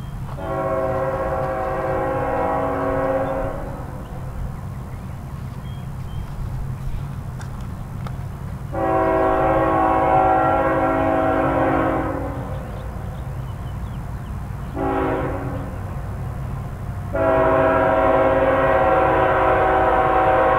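A train rolls through Fostoria, Ohio with a steady low rumble of wheels and cars. Over it the horn sounds in four loud blasts: long, long, a short one, then long.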